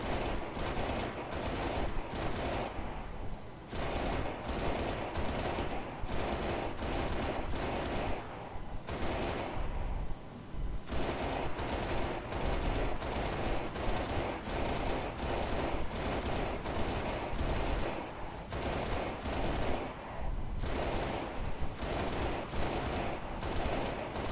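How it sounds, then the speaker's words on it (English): Sustained machine gun fire from the player's weapon in Halo: Reach, mission Long Night of Solace on Mythic, a dense continuous rattle with a few brief pauses, loud and close, with no talk over it. "the machine gun that I'm wielding here is not the easiest to maneuver"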